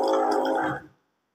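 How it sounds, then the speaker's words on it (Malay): Someone gulping and gargling water, a close, loud throaty burble lasting under a second that cuts off abruptly into silence. "Gue mau minum-minum dulu, guys."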